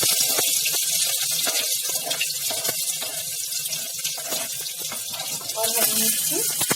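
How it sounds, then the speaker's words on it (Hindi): Onions go into a hot pan for mutton curry, and a loud, steady, hissing sizzle runs throughout, swelling slightly near the end while a voice talks over it. "अब हम इसमें प्याज डाल देंगे"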